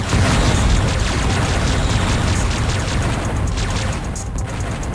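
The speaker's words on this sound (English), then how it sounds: "That was a lot of shooting." Weapons fire in the retro space shooter Descent D1X-Rebirth, a dense continuous barrage of rapid shots and booming blasts, loud and unbroken for several seconds.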